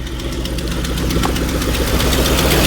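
Ford F-150 pickup with a 4.6 engine idling steadily and smoothly after its first start, a loud continuous even rumble with faint regular ticking throughout and no voices.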